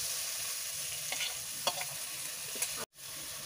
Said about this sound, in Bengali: আর আলুগুলো এখন দিয়ে দিচ্ছি